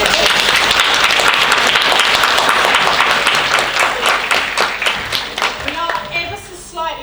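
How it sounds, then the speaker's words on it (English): Round of applause from a student congress audience for a speaker, dense and sustained clapping that thins into scattered claps toward the end. "round of applause for Wendy"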